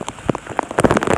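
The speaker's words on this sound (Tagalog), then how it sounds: "Ulan ngayon dito." Rain falls during a fishing outing, a dense patter of drops hitting nearby surfaces with sharp, irregular splashes, close and fairly loud with no voices.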